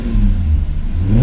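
A 3.2 VR6 engine swapped into an MK2 Jetta coupe revving, a loud, deep, steady engine roar up close for about a second.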